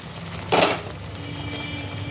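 A short burst of sizzling as a little water hits hot masala in a pan while cooking butter chicken, flaring loudly for a moment and then settling back to a faint background hiss.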